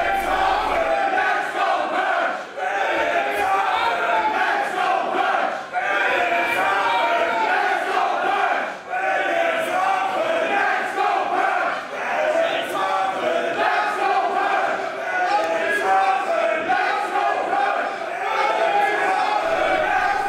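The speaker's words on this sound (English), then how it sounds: "Joey Light has the crowd chanting back and forth" Wrestling crowd at a German indoor show chanting back and forth in steady rhythmic waves, loud and dense throughout, with brief dips between rounds of the chant.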